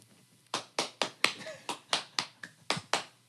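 Eleven crisp finger snaps ring out in a quick, even rhythm, close and clear, mimicking a school's round of applause.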